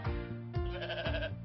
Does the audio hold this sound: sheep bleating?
yes